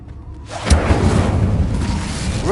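Incendio fire spell cast in Hogwarts Legacy on PS5, a single close whooshing burst that flares into a loud roaring boom and then a sustained crackling fiery rumble.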